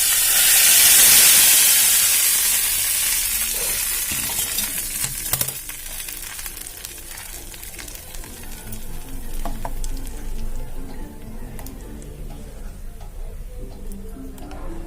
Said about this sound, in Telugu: ఆవాలు ఇంకా జీలకర్రతో తాలింపు.